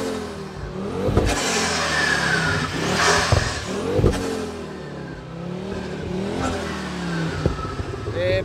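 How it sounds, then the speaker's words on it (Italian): A Ford Focus RS with a hybrid K16 turbo, tuned to about 500 hp, revs repeatedly on a street, its engine note sweeping up and down in loud rising bursts, with faint voices in the background. "Mi faccia vedere un po' di revs qui."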